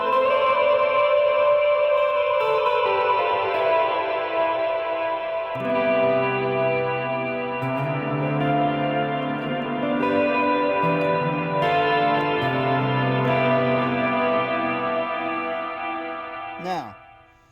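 Electric guitar played through a reverb pedal set for a shimmering sheen: chords and sustained notes ring with a lush, washy tail and chorus-like shimmer, steady and fairly loud, ending on a quick pitch-bending slide.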